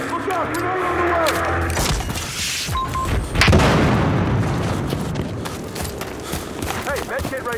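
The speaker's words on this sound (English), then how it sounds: "Grenade on the way!" Grenade blast in the shooter game Battlefield Hardline during a close-quarters match on the Everglades map, a loud booming burst amid ongoing gunfire and chaotic battle noise, with a player's voice talking over parts of it.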